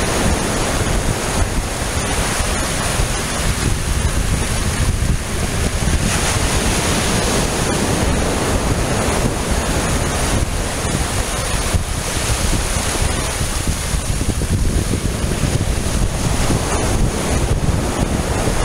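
Ocean surf at Hoste Island in the far south of Chile, with waves breaking continuously on the shore and loud wind buffeting the microphone for the whole stretch, with no voices heard.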